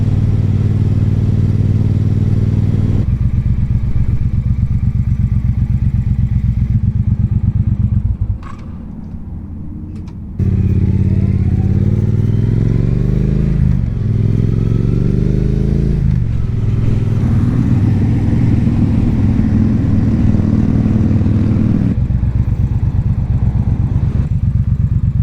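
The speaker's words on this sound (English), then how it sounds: "it's just vibrating the whole bike" A Triumph Bobber motorcycle engine runs loud and close with a heavy low rumble and rattling vibration through the bike, dipping briefly near the middle before rising again with revving swells; there is no talk.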